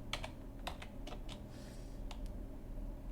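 Quick, light clicks of typing on a computer keyboard close by, a short irregular burst of keystrokes over a steady low hum, with no voices.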